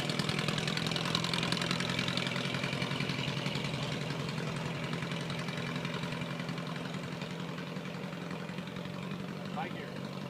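A 1926 Ford Model TT one-ton tow truck engine idles steadily with an even, chugging mechanical rhythm and slight knock, a continuous mid-level running sound throughout.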